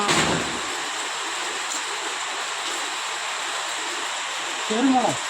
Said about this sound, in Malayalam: ഒരു മഴയാണ് ഇച്ചിരി എന്തൊരു മഴയാണോ